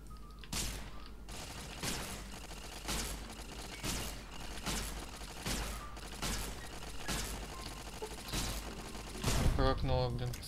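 Repeated gunshots from a weapon in Fallout: New Vegas, fired in a steady rhythm of sharp, loud bursts about one second apart, with combat noise and a final cluster of impacts and effects at the end.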